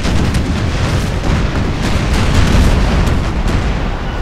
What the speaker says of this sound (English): I love these artillery noises